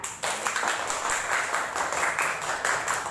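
Steady applause from a group of schoolchildren in a classroom, many hands clapping continuously at moderate loudness throughout.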